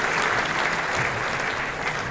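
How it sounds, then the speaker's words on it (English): A second round of audience clapping at the Kiwi-Indian Hall of Fame Award 2018 ceremony: a full, sustained burst of many hands from a large crowd, loud and continuous throughout. "worth a second round of applause"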